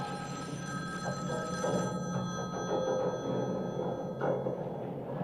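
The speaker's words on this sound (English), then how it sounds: "Your phone's ringing." A telephone rings with bright, sustained electronic bell tones, repeating in bursts over a faint background murmur.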